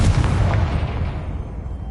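A Confringo blasting spell from the Hogwarts Legacy video game on PS5 goes off in one loud, close explosion with a deep booming body that decays over about two seconds.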